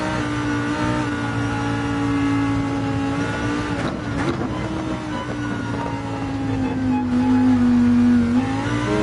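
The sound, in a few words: race car braking and double downshift in Gran Turismo 7 video game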